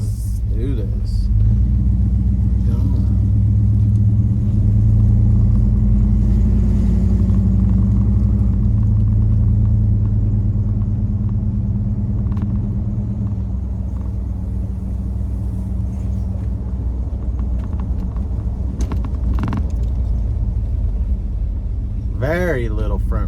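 A Chevrolet Silverado pickup truck engine rumbles steadily at close range as it rolls along a road, a deep continuous drone that eases slightly later on.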